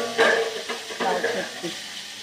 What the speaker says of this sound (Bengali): লাউ ছেঁচকিটাও অলমোস্ট হয়ে গেছে, ভেজে নিই